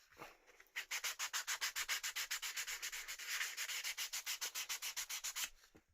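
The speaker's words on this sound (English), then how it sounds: "So I'll just sand the pyramid up" Hand sanding of a homemade pyramid-shaped isolation foot, a steady run of about thirty quick, rhythmic rasping strokes, close and loud, with no voices.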